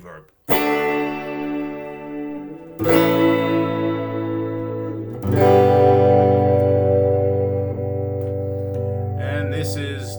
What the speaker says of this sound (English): large hall reverb.